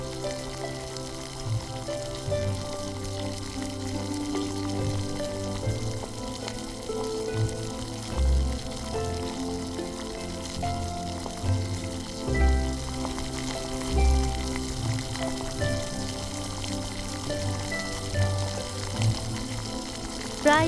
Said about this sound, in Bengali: তেল গরম করে তাতে লাউ পাতার পেস্ট দিন। 5 মিনিটের জন্য ভাজুন।